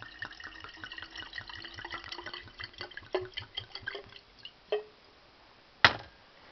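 Water poured onto potassium iodide crystals in a lab vessel, a soft trickling splash with small clinks and a few sharp taps, close and quiet.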